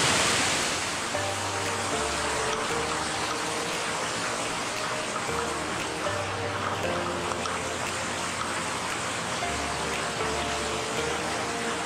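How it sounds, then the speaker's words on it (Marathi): Kerle waterfall at Amba Ghat pours in a constant broadband roar of rushing water, loud and steady throughout with no talk, heard from close by. "थोडंसं पुढं जाऊया आणि धबधब्याचं चांगलं फुटेज मिळतं का बघूया."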